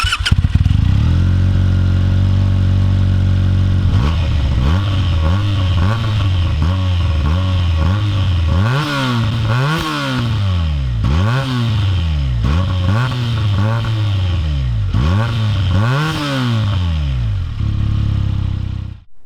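A 2015 Benelli BN302 300 cc motorcycle engine idles high and steady up close, then is blipped through a long series of rhythmic, rising-and-falling revs before settling back.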